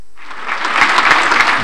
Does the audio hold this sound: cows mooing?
no